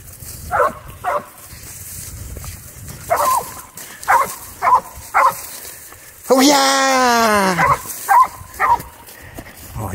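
Dogs bark outdoors in short, sharp bursts scattered across the clip, with one longer, drawn-out howling whine in the middle.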